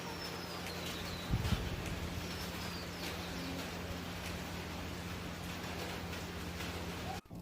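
Steady, dense hiss of rain falling in the mountains at Jawala Ji Temple, Himachal Pradesh, even and continuous, with a faint low hum and a few distant bird chirps.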